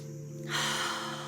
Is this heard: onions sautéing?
no